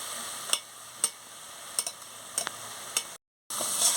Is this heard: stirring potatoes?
yes